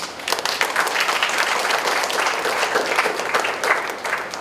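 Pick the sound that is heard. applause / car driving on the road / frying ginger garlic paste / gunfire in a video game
applause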